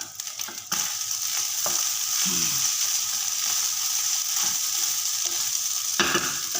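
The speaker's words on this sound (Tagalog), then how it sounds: "mahirap maghalo nang hindi ko mahawakan itong kawali at sumasayaw-sayaw si kawali" Food fries with a constant loud sizzle in a wobbling pan, while a utensil stirs and the pan knocks and scrapes now and then, all close by with no talking.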